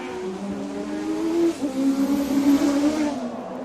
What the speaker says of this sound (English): Villeneuve stood on everything, locked up his tyres, got the line, and he's back into second position.